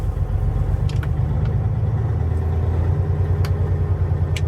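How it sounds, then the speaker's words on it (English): A truck's diesel engine idles at around 1200 RPM, a loud, steady, low rumble close by with no pauses and a few faint clicks. "we need to start the engine and press the RPM to 1200 so that we will have the air all the way up"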